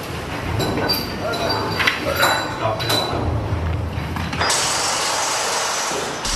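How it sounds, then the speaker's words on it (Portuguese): Bolts on a wind turbine tower are tightened by a crew aboard a swaying installation ship, giving repeated metallic ratcheting and clinking over steady loud mechanical and wind noise. "Assim que a torre é alinhada à fundação, a equipe aperta os parafusos."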